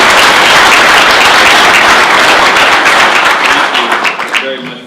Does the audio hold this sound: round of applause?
yes